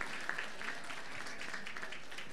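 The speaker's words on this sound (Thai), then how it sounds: "ปรบมือหน่อยค่ะ" Guests at a Thai wedding procession and ceremony clap together, a faint, distant patter of applause that keeps going without pause.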